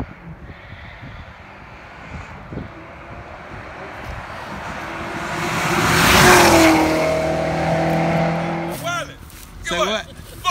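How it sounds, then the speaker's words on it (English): A supercharged Mustang and a V8 Volvo street racing in Mexico: engines roar up to a loud passing peak with a rising whine, then fade, followed by shouting voices from onlookers nearby. "Street action. Mustang versus Volvo."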